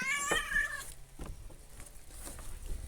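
An old cat gives a single loud, drawn-out meow close by, followed by quieter outdoor garden sounds and faint rustling.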